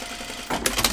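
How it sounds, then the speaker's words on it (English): Home sewing machine stitching a test line on pull-on jeans, a short close whirring burst that starts abruptly halfway through after a quiet moment. "I'm just gonna try this stitching and see what it looks like"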